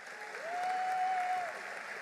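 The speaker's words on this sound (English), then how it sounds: "Please join me in applauding all these special guests." Audience applause for special guests at a university commencement ceremony: a broad, distant roar of clapping from a large crowd, steady and soft, with a brief whistle-like tone rising over it midway.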